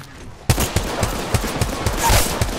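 Gunfire in the Apex Legends battle royale game: a burst of evenly spaced single shots starts abruptly after a quiet moment, sounding close and loud in a steady rhythm of about eight reports.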